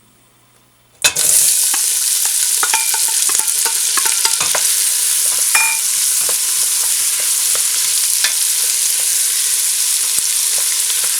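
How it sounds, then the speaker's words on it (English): Onions sizzle and pop in hot vegetable oil for a vegan veggie soup, a loud, steady frying hiss after a sudden start, with scraping stir strokes and crackles throughout and no talking. "for the onions, you want to make sure you stir it so it doesn't burn"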